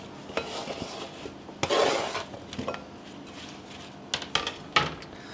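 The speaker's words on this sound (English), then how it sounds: "And we're going to place them into our bowl." Cut potato wedges are dropped into a bowl, giving a few close clunks and a burst of rustling scrapes, then light knocks and clinks with quiet pauses in between.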